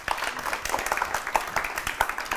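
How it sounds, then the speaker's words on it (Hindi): A studio audience at a live morning TV show claps together in a dense, steady burst of applause that carries on for a couple of seconds, with a faint voice underneath. "बहुत सारी तालियां अपने लिए बजाइए"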